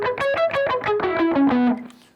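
Distorted electric guitar played with palm muting, a short run of about ten tight, choppy notes stepping downward, the last one ringing briefly before fading; close and loud with no voice.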